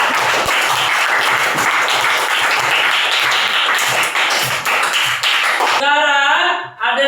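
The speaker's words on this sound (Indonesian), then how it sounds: "Kita beri tepuk tangan untuk semuanya." A classroom of students claps for everyone after a group discussion, a loud, dense round of applause that stops abruptly near the end. A voice speaks briefly in the final moment.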